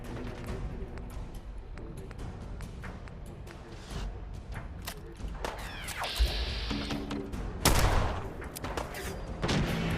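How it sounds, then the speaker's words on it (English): Gunfire in Fallout 4 cracks out as scattered shots and short bursts with heavy impacts, loud and close over the game's background noise, with a couple of bigger blasts near the end. "Again with the freaking bullets"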